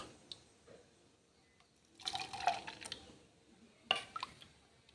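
Water poured into a glass while making green gram juice in a home kitchen: two short splashing pours, one longer and one brief, close and fairly quiet, with no voices.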